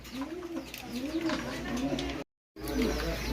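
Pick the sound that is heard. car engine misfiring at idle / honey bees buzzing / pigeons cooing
pigeons cooing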